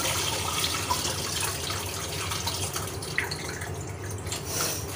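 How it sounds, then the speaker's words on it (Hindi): Rice being rinsed in a bowl of water, soft sloshing and trickling with a few drips, close and fairly quiet, no voices. "तो ये है हमारा चावल और हम इसको 2 पानी से वॉश कर लेंगे"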